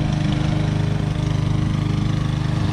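Lawn mower running steadily at close range, a loud, constant chugging engine drone with a fast, even pulse and no other sounds.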